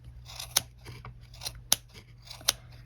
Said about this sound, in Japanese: ボール紙じゃないけどこういうのを使って こうやって切るとより 上手にできるかなと思います。